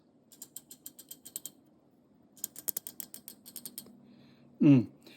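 Quick series of crisp Astro Tools Flex Head Nano ratchet wrench clicks in two bursts, fairly close, followed by a short louder squeak near the end; no talking.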